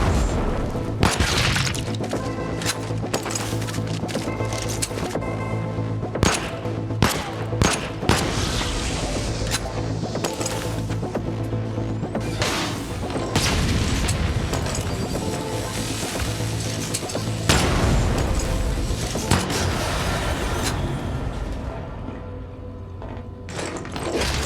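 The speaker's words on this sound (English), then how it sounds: "those proximity mines are much more powerful than your regular grenades" Proximity mines exploding in the video game Void Bastards: loud, dense game audio of repeated booms and crashing blasts mixed with sharp gunfire-like hits, continuous across the whole stretch.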